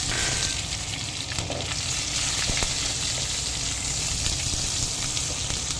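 Green chillies fry in a pan with peanuts, a loud steady crackling sizzle up close, broken by occasional sharp pops and light stirring taps.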